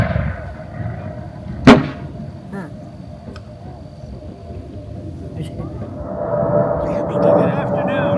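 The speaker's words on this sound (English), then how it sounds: "what you were just shown was a small portion of what volley fire would look like" A single sharp crack of musket volley fire at a spring garrison demonstration at Fort Loudoun, heard at a moderate distance over crowd murmur and talking.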